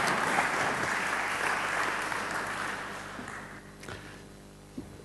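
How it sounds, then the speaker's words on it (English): An audience gives a warm round of applause at a conference introduction, a dense burst of clapping that gradually thins and fades out, ending with a couple of isolated claps. "So, warm round applause for Mr. Liversidge."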